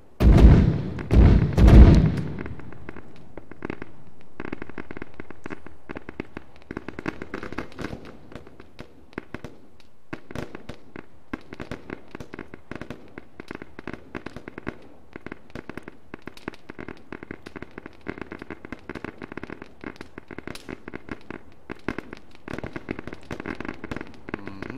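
Repeated weapon fire from computer-controlled units in a military video game, a couple of loud heavy bursts up front followed by a long stretch of sharp, irregular distant shots and pops.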